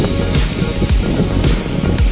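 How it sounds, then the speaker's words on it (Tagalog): Strong wind roars and buffets the microphone continuously, with a rumbling, gusty wash of noise throughout. "napakalakas ng hangin"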